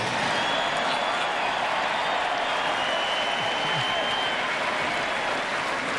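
A large crowd at Derek Jeter's Hall of Fame tribute ceremony claps and cheers steadily, a dense wash of applause with faint whistles mixed in, continuous throughout.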